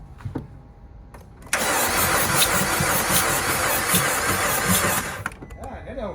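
A flooded Fiat Abarth engine with no compression cranks for about four seconds, a fast, even, loud whirring churn with no firing, preceded and followed by a few quiet clicks and handling noises.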